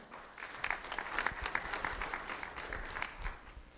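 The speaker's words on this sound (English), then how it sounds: "Round of applause for Piper Swift, everyone." An audience applauds with a steady patter of many hands clapping, moderately distant and continuing throughout.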